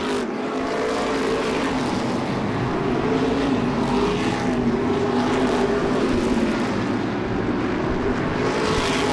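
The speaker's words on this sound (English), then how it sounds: "Wheel to wheel out of the turn. Down the front straightaway, Andy." Modified race cars roar around Seekonk Speedway, a dense, continuous engine howl that swells and fades as the pack passes wheel to wheel, loud and near with no talk.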